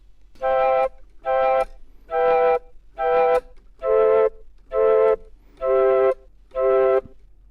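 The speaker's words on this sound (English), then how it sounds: "I've got the Mellotron pulled up here." Eight sustained flute-like Mellotron notes play one after another in an even rhythm, each held about half a second, breathy and clear, with no talking.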